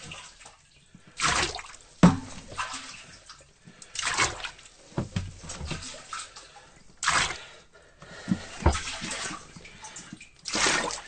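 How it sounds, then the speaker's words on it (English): Water scooped out of a boat's water tank one cup at a time, with repeated splashes and pours in irregular bursts, each followed by dripping and quiet gaps, close by. "I'm emptying the water tank, cup by cup."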